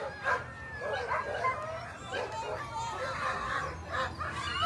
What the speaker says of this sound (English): Very fast sled dogs.